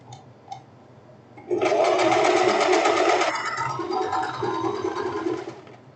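An overlock sewing machine stitches the hem of a silk tank top, starting abruptly after a quiet moment, running fast and loud with a dense rhythmic whir, then easing slightly before stopping; no talking.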